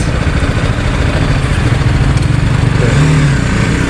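A 2021 BMW G 310 R BS6 motorcycle engine, close and loud, holds a rough, throbbing rev under load through the whole stretch with a slight rise near the end.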